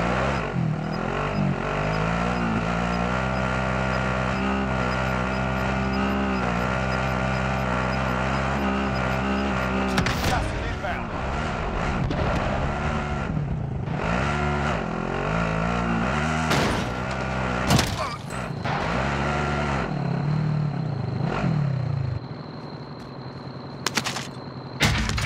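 Vehicle driving in Call of Duty Warzone, a loud sustained engine drone that rises and falls as it revs and shifts, mixed with bursts of gunfire over about twenty-five seconds.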